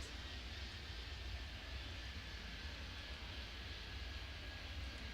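Steady jet engine roar from an airliner at an airport in Airport Madness 3D, a continuous loud low rumble with a faint high whine running evenly throughout, no talk.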